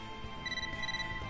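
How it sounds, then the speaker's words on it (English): A mail notification chime plays on a phone in the video game Catherine: Full Body, a short two-tone electronic tone sounding clearly over a quiet background hum. "You got a mail."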